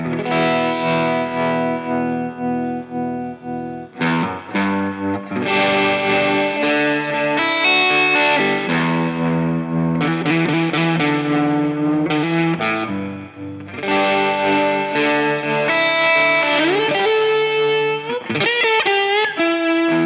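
An electric guitar plays sustained, distorted chords and notes through an Origin Effects Revival Trem tremolo pedal on its asymmetric shape at a slow setting, giving a steady, loud, pulsing wash with short gaps between swells.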